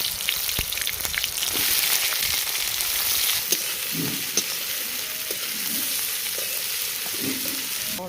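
Tomato and chopped onion fry in hot oil for a desi chicken curry, a steady, close sizzle with occasional scraping stirs and crackles, no voices.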